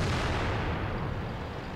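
A World of Tanks KV-2 heavy tank fires its gun: one loud, booming, full-range blast that fills the short moment and decays slowly, with no voices.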